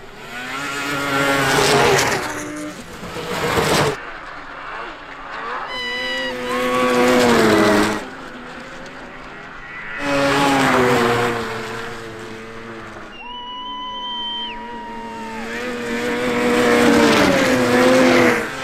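Iron Dog race snowmobiles speed past one after another during a winter snowstorm, each engine rising to a loud, high-revving whine near the listener and fading as it goes, in repeated surges with brief quieter gaps between.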